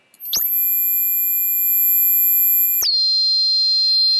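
A very high-pitched, pure 13,000 Hz electronic test tone sounds steadily and alone. It starts with a click and shifts abruptly partway through.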